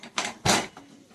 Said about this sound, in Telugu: నేను ఇప్పుడు కుక్కర్ మూత తీస్తున్నాను